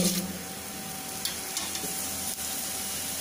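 Spices sizzle steadily in hot sesame oil in an iron kadai, a continuous close hiss with a few small clicks and taps, and no voices.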